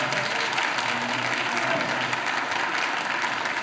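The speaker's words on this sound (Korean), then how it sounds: "격려하면서 박수 치면 감사하겠습니다" Church congregation applauding during a Sunday service, a steady dense wash of clapping hands from a large crowd that holds evenly for the whole stretch.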